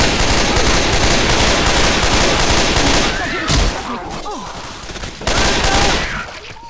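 Heavy gunfire in Left 4 Dead 2, a loud continuous barrage of shots with bursts of automatic fire that briefly drops out and resumes, players talking underneath.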